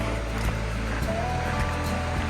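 Creek water flowing steadily beside a campsite at Tachin Creek Campground in the Yukon, a continuous broadband rush and burble close by, with no voices.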